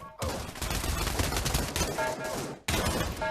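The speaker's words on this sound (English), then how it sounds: "that's a lucky tight shot with the Barrett" Gunfire from the video game Pavlov, where a Barrett sniper rifle is among the weapons, comes as dense, loud overlapping bursts that run for over two seconds, break off briefly, then start again, with no talking.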